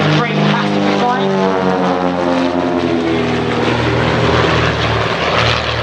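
Propeller aerobatic aircraft of the Wildcats display team performing at an air show, a loud continuous engine drone with shifting pitch throughout, close and steady, with a commentator's voice running underneath.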